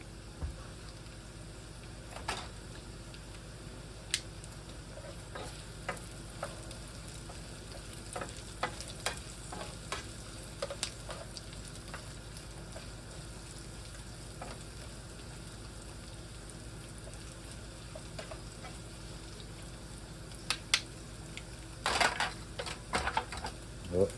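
Two eggs and hash browns frying in a pan for breakfast: a steady close sizzle with scattered scraping and tapping from stirring, heard alone without talk.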